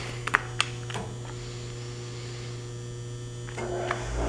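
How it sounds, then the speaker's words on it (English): An Acer 8 x 18 inch hydraulic surface grinder with its grinding wheel running, a steady low electric hum with a few faint clicks and taps over it, and no talk. "That's the grinding wheel."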